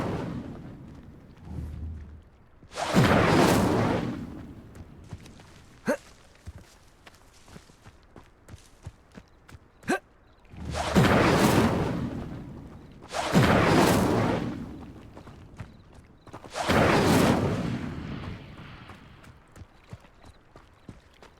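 In the video game Hogwarts Legacy, the Incendio fire spell is cast again and again as four loud, roaring bursts spread across the stretch. Quieter footsteps and small clicks fill the gaps between them.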